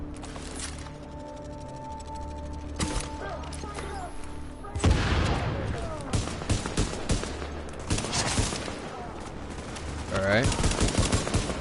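Pistol gunfire in The Division comes as sharp, close shots, at first sparse and then in quicker bursts with booming echoes, while someone speaks briefly over the shooting.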